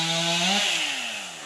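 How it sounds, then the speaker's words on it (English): Chainsaw cutting up felled tree limbs for firewood on a cattle homestead, a steady loud whining engine that drops in pitch as the chain bites into the wood, with no talking. "finishing cutting up some of the limbs"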